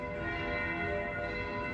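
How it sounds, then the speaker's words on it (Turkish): Several church bells ring together across Trieste, Italy, their sustained overlapping tones heard steadily from a distance with no speech. "Bakın kaç tane kiliseden çan sesleri geliyor."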